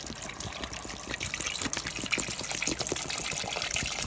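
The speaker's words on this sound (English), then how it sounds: "Okay, and I'm going to add the water." Bottled water poured into a pot of caramelized pork belly with eggs, a steady splashing pour with bubbling and sizzling, close and fairly loud throughout, no talk.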